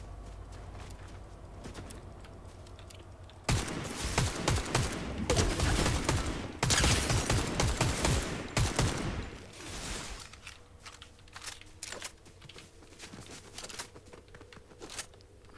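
Gunfire in the video game Fortnite erupts as a dense, loud volley of rapid shots for several seconds, then thins into scattered single cracks over a low background game hum.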